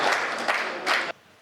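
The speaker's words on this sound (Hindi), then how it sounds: "एक बार जोरदार तालियां बजाएं" An audience at a Hindi poetry gathering claps in two short bursts, fairly loud and close, then cuts off sharply into near silence.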